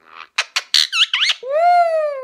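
A parrot lets out a rapid run of loud, close squawks and squeaks, then one long, drawn-out screech, with no talking.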